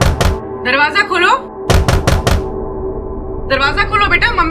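Sharp knocks on a door in a Hindi television crime drama: a quick pair, then a louder burst of four rapid raps, between stretches of lively background music, with no voices heard.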